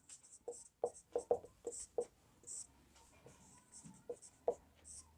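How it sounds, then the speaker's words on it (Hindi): Pen scratching across paper while a geometry solution for a right-angled triangle construction is written out, a string of short, close strokes and taps in uneven bursts, with no talk. "अपन यहाँ लिखेंगे हल।"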